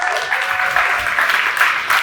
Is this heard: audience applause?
yes